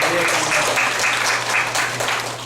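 Faculty and students at a university teaching workshop give a brief round of applause, steady clapping with a voice faintly underneath.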